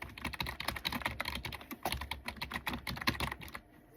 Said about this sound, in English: ASMR keyboard.